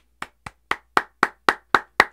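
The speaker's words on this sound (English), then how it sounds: "deserves an award and a round of applause, so let's give them that" Eight sharp claps ring out at a slow, steady pace, each a crisp close hand strike growing slightly louder, with no voices in between.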